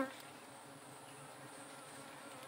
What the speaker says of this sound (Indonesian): Ini lebah dorsata.